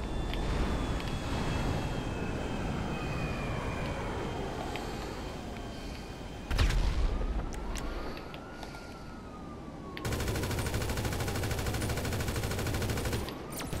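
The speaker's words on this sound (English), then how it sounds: "Maybe I should use my fire weapon." Burst of fire-round weapon gunfire in Grand Theft Auto V, rattling shots mixed with siren-like wails and game effects, fairly loud and continuous with a sharp blast midway.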